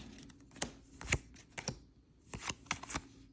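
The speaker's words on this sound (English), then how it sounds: "ASMR with the pack opening and the shuffling of the card sound" Crisp, irregular clicks and riffles of Sorcery trading cards being shuffled close up, coming in small quick clusters with brief pauses between.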